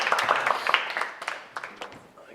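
Audience applause at a kick-off event, a brief spell of scattered clapping mixed with voices, fading toward the end.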